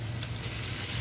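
Chicken pieces hit hot oil with sautéing garlic, giving a steady, close, loud sizzle with no pauses across the brief moment.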